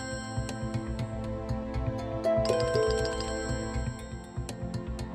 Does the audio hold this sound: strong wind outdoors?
no